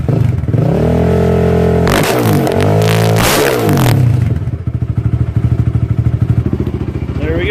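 A Honda TRX450R ATV engine idles with a throbbing rumble, then revs sharply in loud rising bursts before settling back to a fast, even, popping idle, close and dominant.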